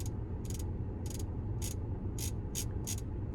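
Rotary infotainment control knob in a Mercedes CLA200D sedan being turned, producing about seven crisp, evenly spaced clicks over a steady cabin hum.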